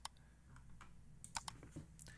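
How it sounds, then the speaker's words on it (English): Light, sparse keystrokes on a computer keyboard tap out irregularly, close and quiet, during font editing in Apple Motion, with no voices over them. "I can push up on the keyboard and change the next letter."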